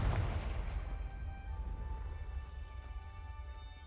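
A Confringo spell explodes in Hogwarts Legacy: one sharp, heavy blast at the start that decays into a fading rumble with ringing tails, with no talking over it.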